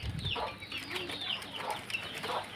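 Two farm hens and a rooster kept in a cage cluck in short, scattered calls over steady background noise, with no voices.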